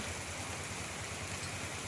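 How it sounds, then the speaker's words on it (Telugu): Rain falls steadily in a dense, even hiss, a continuous wash of drops on surfaces with no voices. "వర్షం ఎక్కడ పడితే అక్కడ కొడుతుంది"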